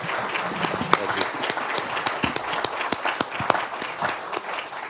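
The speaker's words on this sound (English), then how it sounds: "but how about applause?" Audience at a property and insurance panel event applauding at a break, a sparse crowd with distinct individual claps close by, uneven rhythm fading slightly toward the end.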